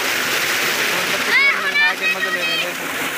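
Children splash while bathing under cold water from a tube well, a steady rush of pouring, splattering water with excited kids' voices calling over it.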